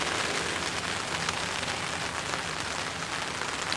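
Steady rain patters on a tent tarp at a backyard camp in Whakatane, a dense, even hiss of drops with no talking.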